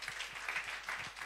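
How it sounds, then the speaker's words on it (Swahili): Church congregation clapping as people head back to their seats, a faint, steady patter of many hands with slight swells in rhythm. "wapigeni makofi wanavyoenda kukaa chini"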